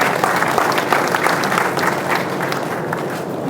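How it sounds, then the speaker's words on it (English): Loud, steady applause from a conference audience at an internet registration association event, sustained and dense for the whole stretch without a break. "round of applause now, please"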